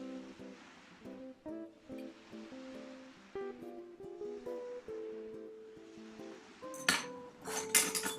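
Metal spoon clinking against a plate as sauce goes over meat, several light, bright taps and scrapes spread across the moment, with a louder clatter toward the end.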